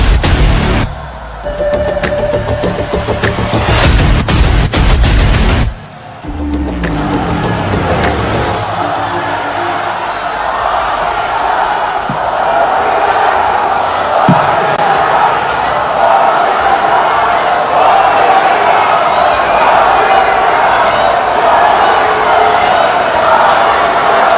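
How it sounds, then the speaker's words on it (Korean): A big crowd at a People Power Party national convention greets leadership candidate Won Hee-ryong with loud, sustained applause and cheering that fills the hall without a break. "큰 박수로 맞이해 주시기 바라겠습니다"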